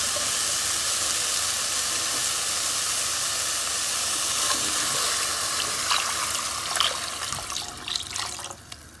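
Water pours steadily into a cooking pot while making chicken soup, a continuous close hissing splash that grows more broken and uneven toward the end, with no talking.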